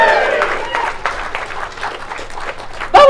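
Crowd cheering and applauding for Camp Quality's inaugural Convoy Adelaide, a dense outdoor wash of claps and shouts filling the whole moment, with a brief louder burst near the end.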